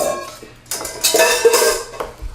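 Mixing bowls knocked and handled in a home kitchen while making brownies, with close clattering clinks and scrapes of dishware in irregular bursts.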